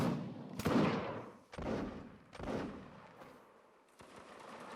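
Musket volleys at a reenactment of the 1806 Prussian campaign by the 33rd Regiment, several sharp cracks with long rolling decays at moderate distance, the shots spread unevenly over a few seconds.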